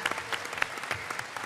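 Audience clapping at BlizzCon 2017 during an Overwatch voice actors panel, a crowd applauding in a dense, steady patter with a few sharper claps standing out.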